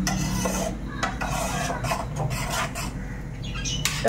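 Food cooking in a pot being stirred, a soft steady rasping and scraping of a spoon against the pot, close and continuous, with no talk.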